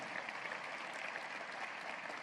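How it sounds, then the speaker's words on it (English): A university audience at the State of the University address gives a hearty round of applause, a continuous even patter of many hands, fairly soft and distant, with no voices. "Let's give these folks a hearty round of applause."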